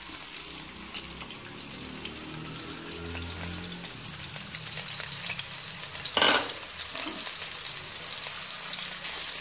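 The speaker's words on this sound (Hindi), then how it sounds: "और अब हम डालेंगे इसमें प्याज" Onions go into hot ghee for chicken biryani, frying with a dense, steady sizzle and bubbling close by, a few stirring scrapes, and one sharp clatter partway through.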